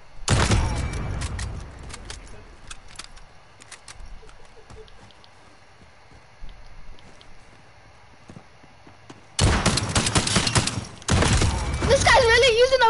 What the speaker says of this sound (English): This guy's really using a fucking shotgun, dude.